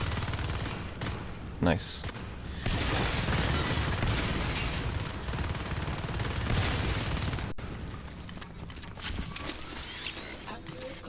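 Shotgun fire in the sci-fi shooter game Natural Selection 2 forms dense, continuous volleys of gunfire and mechanical clatter, with occasional heavier booms and a brief spoken word.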